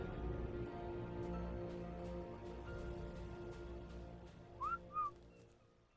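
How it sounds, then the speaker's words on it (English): A player character in ARK Survival Ascended whistles a command to a tamed creature, two short rising whistle notes, faint over a steady game soundscape and music bed. "I did whistle that creature, the RG"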